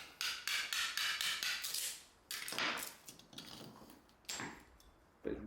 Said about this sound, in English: it's getting the old gripper rod out. Really in there. Actually, you can see I really struggled getting some of these nails out.